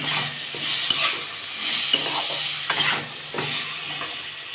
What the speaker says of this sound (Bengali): আর মশলাটা কষা হয়ে গেছে